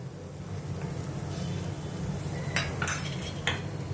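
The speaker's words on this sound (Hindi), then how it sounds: "इनको मैं अच्छे से मिक्स करती हूँ दाल के साथ।" A spoon stirs dry spice powders into boiled dal in a pot, making soft scraping and a few light metallic clinks, quiet and close, over a low background hum.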